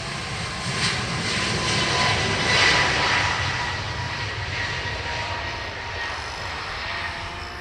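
An Aer Lingus Airbus A321neo jet departs Dublin Airport for Newark, its engines a broad continuous roar heard from a distance that peaks midway and then holds steady as the aircraft climbs away, with no talking.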